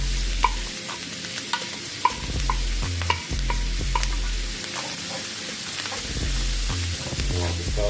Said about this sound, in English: You want to saute your season for about 2 minutes.